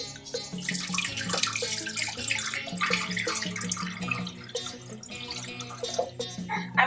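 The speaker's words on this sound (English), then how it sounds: "And first I'm going to add the water." Water pours into a cooking pot on a stove set to medium-low for Haitian hot chocolate, a continuous splashing, bubbling stream close by with no talking.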